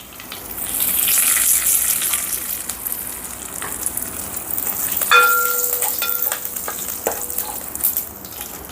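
Mustard seeds, cumin, dry chilli pieces and curry leaves temper in hot oil, with a loud hissing sizzle swelling early, then a steady crackle broken by a few metallic clinks of a ladle against the pan.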